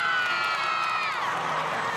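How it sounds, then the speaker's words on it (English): A large arena crowd cheers steadily for gymnast Aly Raisman at the 2016 U.S. Olympic women's gymnastics trials all-around final, a loud, continuous roar of voices and whoops with no clear speech. "Everybody's cheering for Ali Raisman,"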